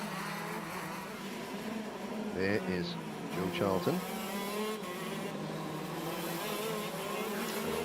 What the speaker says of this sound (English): They need to warm the karts and the engines up as well.